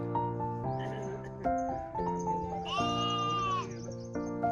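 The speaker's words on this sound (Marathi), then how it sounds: "मेंढ्या चरतायत इथे." Sheep grazing on a high mountain trail along the Sar Pass trek bleat repeatedly, several close, wavering calls overlapping one another, with one long drawn-out bleat in the middle.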